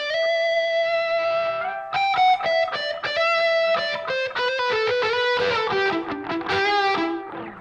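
An electric guitar with a short delay effect plays a distorted lead phrase of quick, ringing notes, each trailed by a brief echo, loud and close.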